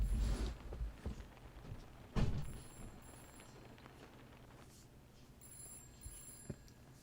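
Old-style telephone bell ringing in a haunted PS1-style horror game demo, faint repeated trills in short bursts over a low dark ambience, with a couple of heavier thumps early on.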